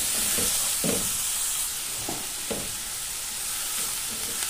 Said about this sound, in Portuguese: E também vamos colocar aqui o alho para fritar tudo junto.